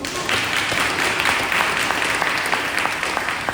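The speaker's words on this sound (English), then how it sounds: "you're gonna applaud these people" Steady, dense applause from an audience at a community event honoring a retired sheriff's officer and others, loud and continuous throughout with no break.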